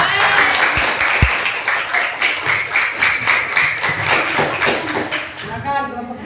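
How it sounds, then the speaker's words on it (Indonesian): A classroom group claps for a classmate's group stepping up to present, steady dense applause at close range with a couple of sharp taps early on, fading toward the end. "Tepuk tangan dulu untuk temannya."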